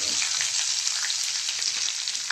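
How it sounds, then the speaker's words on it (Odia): Chillies and cumin seeds frying in hot oil for an Odia fish dish, a bright, even hiss of sizzling with small crackles, close and continuous. "ତେଲ ଗରମ ହେଇକି ଆସିଲାଣି, ଏବେ ଲଙ୍କା ପକେଇଦେବା, ଆଉ ଜିରା ଚନ୍ଦିନୀ ତାକୁ ପକେଇଦେବା"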